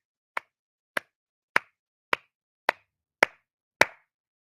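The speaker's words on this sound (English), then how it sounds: "Let's give her a slow clap." A slow clap: seven single, sharp hand claps spaced about half a second apart, each crisp and isolated against silence, with the last few slightly fuller.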